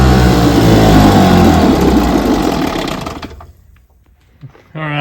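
A 1967 Evinrude 3 HP outboard motor runs loud and steady on a test stand, its buzzing drone filling the first three seconds before fading away. A short burst of sound returns at the very end.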